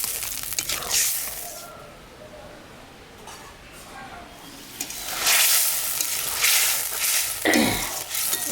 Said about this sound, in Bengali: এখন আমি সামান্য একটু জল দিব